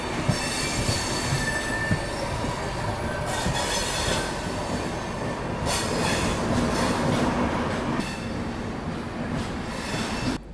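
The Gomti Express passes at speed, a dense continuous roar of wheels and rail with squeals and rhythmic clatter, heard steadily and fairly close throughout without speech.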